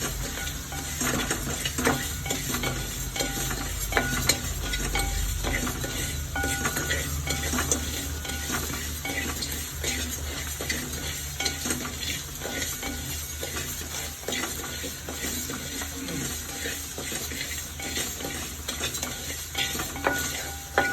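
Ground pepper powder being roasted and stirred in a pan for idli podi, continuous close scraping of a spoon against the pan with a steady soft sizzle underneath, no talking.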